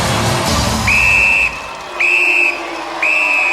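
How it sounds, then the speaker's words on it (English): Referee's whistle at a Gladiators arena event: three loud, steady half-second blasts evenly spaced about a second apart, over a murmuring crowd background. "The whistle goes."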